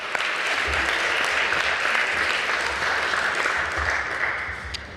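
Sustained applause from a crowd at a San Antonio Sports Hall of Fame induction ceremony, a dense wash of clapping that holds steady and then fades slightly toward the end.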